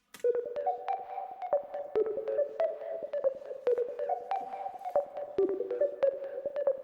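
A synth line chopped by Logic Pro X's Step FX plugin into rhythmic, stepped pulses, with sharp clicks and tones jumping between pitches in a fast repeating pattern.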